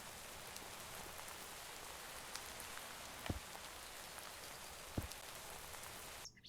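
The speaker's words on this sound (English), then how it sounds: "The rain in this pack sounds so crisp." Steady crisp rain falling on surfaces in a modded Minecraft world, a continuous even hiss with a couple of brief sharper drop ticks, running alone with no voices.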